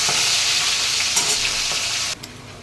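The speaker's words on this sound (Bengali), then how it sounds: "দেখুন এইভাবে আমি মাছগুলো সব ভেজে নিয়েছি।" Pomfret fish frying in hot oil, giving a loud, steady, close sizzle with a few sharper crackles before the sound suddenly drops away near the end.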